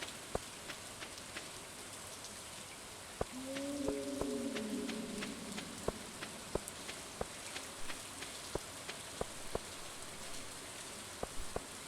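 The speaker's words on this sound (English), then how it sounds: "Hey, we got a rain day." Rain falls on a rainy day in the farming game Stardew Valley, a steady soft patter with scattered sharper drop ticks and a brief tonal game sound midway, no talk.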